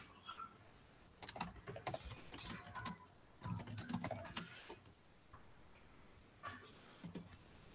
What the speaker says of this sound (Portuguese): você só precisa continuar digitando